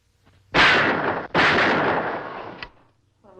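Two loud, sharp bursts of gunfire from a western film shootout, each shot ringing out and decaying over about a second, followed by a fainter crack, with no talk.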